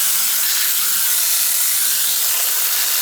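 A garden hose sprays water onto the coils of an old Ruud air conditioning unit in a steady, unbroken hiss that stays loud and close throughout.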